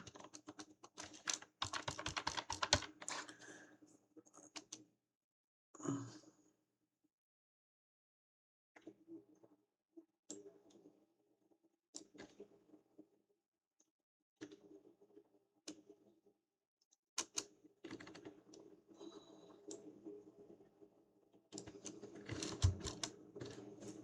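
Fingers type on a computer keyboard in quick bursts of clicking keystrokes, close and fairly quiet, with pauses between runs of keys.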